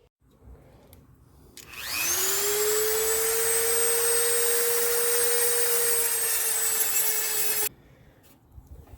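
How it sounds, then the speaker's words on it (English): A Dremel rotary tool cuts a notch into a 9/16 inch box-end wrench. It spins up to a steady, close, high-pitched whine that holds for about five and a half seconds, then stops abruptly, with no talking. "attack it with a Dremel tool."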